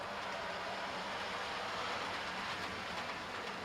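A B17 model railway locomotive runs along a loft layout track, giving a steady close rushing, rumbling hum throughout.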